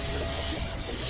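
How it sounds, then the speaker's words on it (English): A CNC machine cuts contours into a plate, giving a steady, continuous grinding hiss with a faint high whine throughout, fairly close and uninterrupted. "So now we're just doing the contour cuts."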